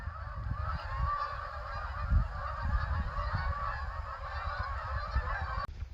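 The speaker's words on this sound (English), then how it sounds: "Attack of the geese." A flock of geese honks continuously, a dense overlapping chorus of calls with a steady low rumble beneath, loud and sustained.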